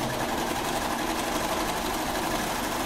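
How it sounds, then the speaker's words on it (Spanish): A sewing machine runs steadily up close with a fast, even, continuous hum as it joins mesh side panels of classic panties, with no voices. "Entonces voy a unir al delantero y luego lo uno a la parte"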